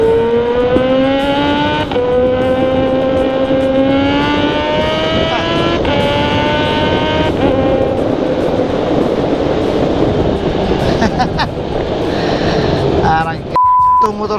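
A supercharged Kawasaki ZH2 liter motorcycle accelerates hard, its loud rising engine whine climbing through several gear shifts before settling into a steady cruising roar, with a rider talking over it.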